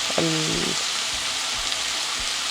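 Onion and garlic frying in a pot, a steady close sizzle throughout with a brief tonal clink or scrape near the start and a few soft knocks of the pot.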